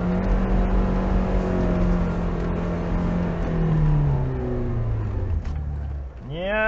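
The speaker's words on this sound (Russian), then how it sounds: "Включаем вторую пониженную и пробуем на газах." A Lada Niva 4x4 on mud tyres, stuck in mud in second low-range gear, revs hard. The engine drones steadily and loudly and rises and falls with the throttle. Near the end the pitch sweeps sharply as the revs change quickly.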